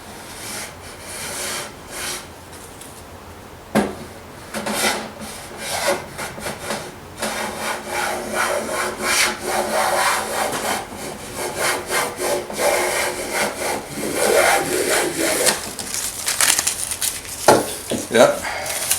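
A Millers Falls hand plane shaves wood in long rasping strokes, close and continuous, with scraping passes running back to back and a few sharper knocks near the end.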